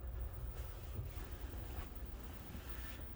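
Ocean waves wash steadily against the hull of the Grand Princess cruise ship, heard from a low ocean-view stateroom near the waterline as a constant rumbling surge with soft swells and wind-like hiss, no voices.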